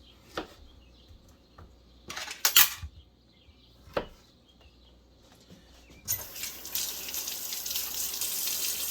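A kitchen tap runs steadily for the last few seconds as a loud, broad hiss of water, following scattered clinks and knocks of utensils in a kitchen where pears are being prepared for freeze drying.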